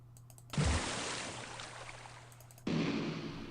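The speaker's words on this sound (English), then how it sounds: "It's what a hammer would sound like, I guess." Two loud hammer impacts from the RPG Maker MV sound effect library, each a sharp thud that decays into a long broadband ring, about two seconds apart, heard alone over a low steady hum.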